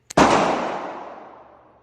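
A loud, close gunshot from a budget Glock 21 pistol in .45 ACP, a sharp crack with a faint tick just before it and a long ringing decay.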